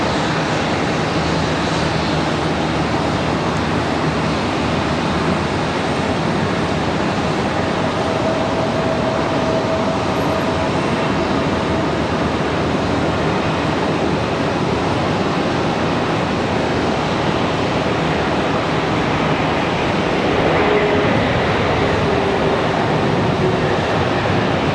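A Lufthansa jet airliner at Charlotte Douglas airport gives a steady, broadband engine roar that stays loud and even throughout, with no voices.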